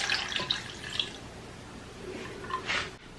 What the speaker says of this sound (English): I'll just add 1 cup of water